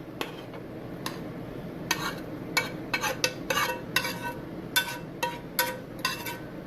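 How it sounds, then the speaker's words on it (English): Apples stirred into a simmering pork chop cream sauce in a pan, with repeated clinks and scrapes of a utensil against the pan over a soft bubbling sizzle. "Let's add our apples."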